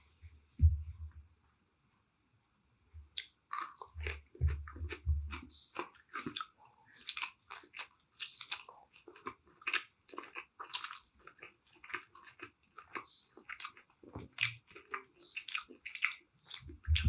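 Close-up chewing of sausage, cheese and meatball pizza: soft wet bites and crunchy mastication in an irregular rhythm, with a quiet pause near the start, no talking.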